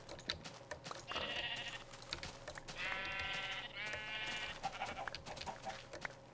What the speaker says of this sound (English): probably all the sheep that I had, you know, gotten earlier have grown up